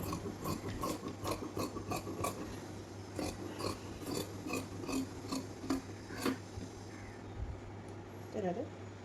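Fabric being cut with scissors for a side-tie nightie frock, giving repeated close, crisp snipping and rasping strokes in steady bursts over a low constant hum, with a brief pause near the end.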